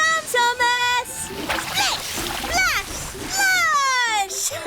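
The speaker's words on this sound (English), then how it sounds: "Muddy water splattered everywhere." Muddy water splashes and splatters in a busy cartoon scene, broken up by whistle-like squeals and excited childlike voices talking.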